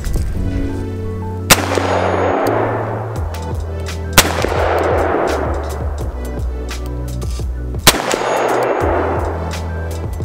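A Chiappa Rhino 60DS revolver fires double action at a 50-yard target outdoors, three sharp loud shots at a slow, even pace, each followed by a booming echo that trails away.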